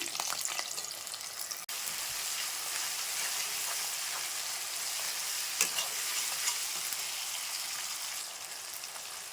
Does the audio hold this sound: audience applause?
no